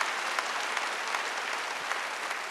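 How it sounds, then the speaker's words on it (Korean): Congregation clapping at a Wednesday church service, urged to clap harder: a steady, fairly soft roll of many hands applauding together, with occasional louder individual claps poking through. "왜 박수 소리가 그래요? 더 세게 치지."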